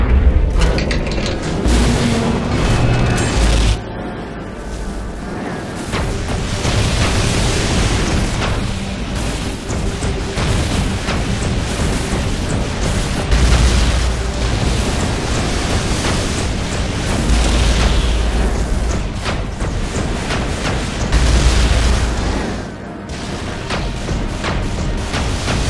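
Missile explosions in the Iron Man video game at a Maggia factory, heavy low booms and rumbling blasts repeating over dense mechanical clatter and game effects, loud and continuous.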